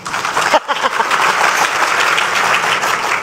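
Loud audience applause erupts during a Bolivian presidential debate, a thick, sustained burst of clapping from a crowd in the hall, with a brief voice near the start before the clapping carries on evenly.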